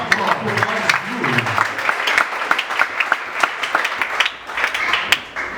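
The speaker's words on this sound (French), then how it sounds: "Acclamons très fort" A church congregation bursts into loud, sustained applause, dense clapping filling the room for several seconds with a few sharper claps standing out near the end.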